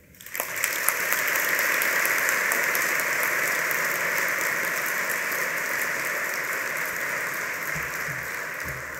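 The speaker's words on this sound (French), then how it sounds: "j'aimerais vraiment que ce soir vous puissiez l'applaudir." An audience at a formal charity dinner breaks into sustained applause, a dense rain-like clatter of many hands that swells quickly and holds steady for several seconds before easing slightly.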